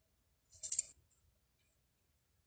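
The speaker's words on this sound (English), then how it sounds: "So I'm going to cut it off right about there." Scissors snip once through ribbon at a card-making table, a short crisp cut, with a faint click at the very end in quiet surroundings.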